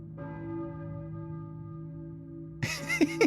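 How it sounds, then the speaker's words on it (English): A church bell rings in the video game Silent Hill, its long sustained tone decaying for about two and a half seconds before a burst of louder, brighter noise cuts in at the end. "I hear a church bell, maybe? Who is ringing the bell?"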